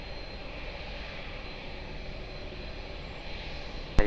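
An airliner takes off at Lisbon Airport with a constant engine rumble and hiss from some distance, ending in a sharp brief click or knock.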